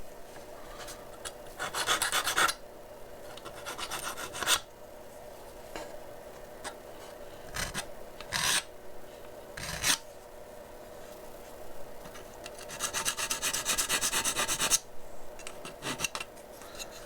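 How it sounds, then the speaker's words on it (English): A model car body shell from an Aoshima Knight Rider KITT Season One kit is sanded by hand, with several close bursts of dry, rasping strokes separated by quieter pauses and no talking. "a bit of sanding on the shell we've got to do."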